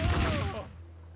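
Gunfire in the Max Payne video game rings out as a quick volley of loud shots. The ringing tails off within about a second.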